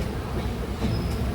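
A crowded late-night local train from Sealdah running: a steady, close rumble and rattle of carriages in motion, with a faint high squeal briefly rising near the end.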